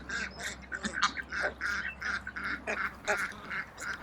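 Runner ducks foraging in an orchard give a steady run of repeated quacks and honks, several birds calling close by in irregular bursts over a low background hum.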